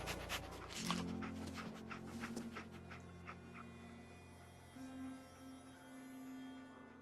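The companion dog Dogmeat in the Fallout 4 video game pants steadily and quietly throughout, with a brief whimpering whine near the start, close by and alone.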